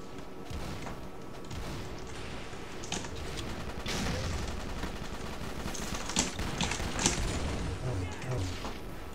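A pink shotgun blasting repeatedly in the game Microvolts, a steady run of loud shots and thumps over game noise, with a player talking over the firing.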